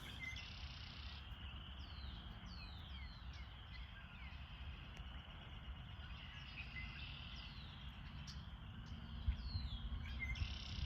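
Birds chirping outdoors in nature, repeated short high chirps and tweets over a steady low outdoor hiss, fairly faint and distant.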